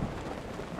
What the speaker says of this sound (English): You better get out of this thunderstorm, though.